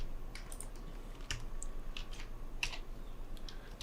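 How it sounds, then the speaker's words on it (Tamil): Typing on a computer keyboard while working in After Effects, a run of quick, close key clicks at an irregular rhythm over a quiet background hum, with no talking. "விகில் அப்படின்னு டைப் பண்ணிவிட்டு"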